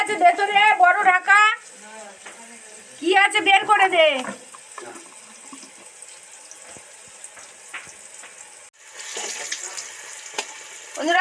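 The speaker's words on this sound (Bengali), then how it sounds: "ওদিকে তো বেগুন ভাজা হচ্ছে দেখতেই পাচ্ছেন" Eggplant slices sizzle as they fry in a kitchen preparing a festive pre-wedding meal, a steady frying hiss that continues under bursts of talk and grows louder near the end.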